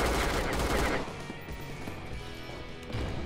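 Heavy video-game gunfire crackles in a dense, loud rapid burst for about a second, then continues more faintly as quieter scattered shots and noise.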